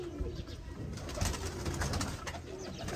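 A breeder pair of pigeons coos steadily and close by in a loft, the soft throaty calls running over faint background hum, with no talking.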